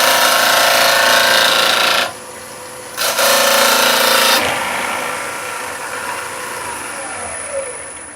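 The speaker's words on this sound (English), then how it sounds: "Now I'm going to start off with a small 1/4 or 6mm bowl gouge." A 6mm deep-fluted bowl gouge cuts a spinning offset pendant on a woodturning lathe, giving loud, close scraping hiss that drops out briefly, resumes, then fades into a softer lathe hum.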